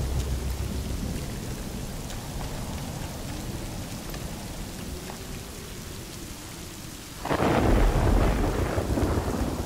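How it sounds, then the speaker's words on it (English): Thunder in the video game Rainbow Six Siege on the Operation Grim Sky map: a steady wash of rain and low rumble, then a sudden loud thunderclap crashes near the end and keeps rolling. "That thunder scared the hell out of me."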